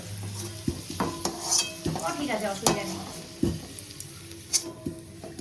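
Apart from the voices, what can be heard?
frying vegetables in a pan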